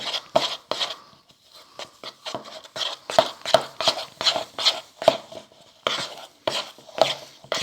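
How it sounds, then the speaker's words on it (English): Keto and vegan peanut butter cookie dough being mixed by hand in a bowl, a close series of irregular taps, knocks and soft scrapes in quick bursts. "now I'm going to go mix everything together over here"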